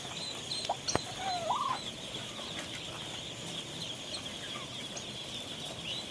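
Newly hatched native Philippine ducklings give a few scattered high peeps over a constant background hum, close but faint, with no one speaking.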